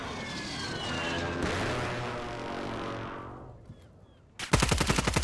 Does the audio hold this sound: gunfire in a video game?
yes